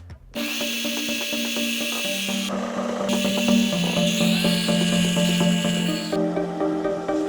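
A ProCraft BDS400S disc and belt sander runs steadily and fairly loudly for the whole stretch, a constant motor whine with belt rub and shifting pitch as it works, with no talking over it.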